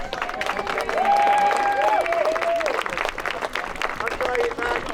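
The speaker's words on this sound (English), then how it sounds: "Ladies and gentlemen, give our Jacobites a big round of applause" Applause and crowd noise for Jacobite reenactors after a live combat demonstration at a medieval fort, steady and fairly loud, with a voice and whistle-like tones over it.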